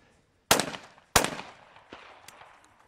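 Two sharp, loud shotgun blasts at a skeet shooting competition, about half a second apart, each followed by a short ringing decay. A fainter distant shot comes after them.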